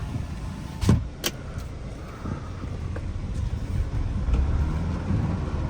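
Car windows being closed inside a parked car: a couple of sharp clicks early on, then a low, steady motor hum and rumble that grows slightly louder toward the end, with no voices.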